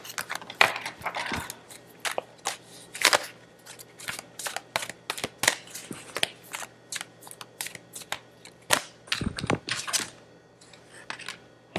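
Tarot cards are shuffled by hand in repeated crisp riffling bursts, close and fairly loud, separated by short pauses, with no talking.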